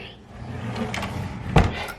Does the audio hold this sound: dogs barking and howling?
no